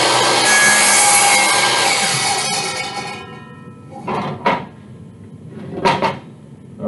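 A circular saw plunges down into a wooden mold base, its loud steady whine running for about three seconds before it spins down, followed by a few short knocks and scrapes of wood being handled nearby.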